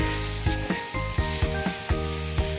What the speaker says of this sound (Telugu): ఇలా కాసేపు వేయించండి, 5 నిమిషాలు వేయింటే ఇవి కూడా మగ్గిపోతాయి.